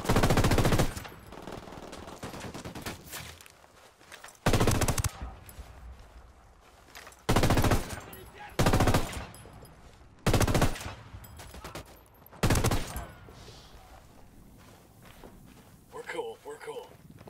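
Enemy gunfire from a camp in Ghost Recon Wildlands, loud bursts of automatic fire repeating every second or two with quieter gaps between, and a voice heard during the shooting.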